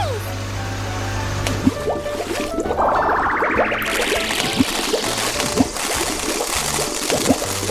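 Water pours and trickles steadily from a toy water tank truck during pretend play, under a rising synthetic sweep and scattered chimes.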